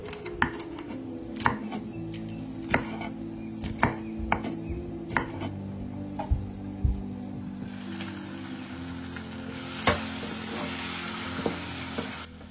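A knife chops food on a board in a home kitchen, a run of sharp, evenly spaced knocks in the first half. Later a pan sizzles steadily as food fries, with a few more chops over it.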